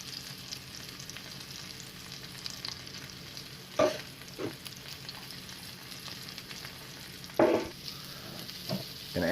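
Quiet, steady sizzling of mushrooms browning in a pan, with a few sharp scraping knocks from stirring scattered throughout.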